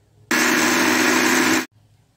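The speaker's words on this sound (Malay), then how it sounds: "sekarang kita blender dulu." A blender blending fish-ball mixture whirs loudly for just over a second in one steady burst, starting and stopping abruptly against near silence.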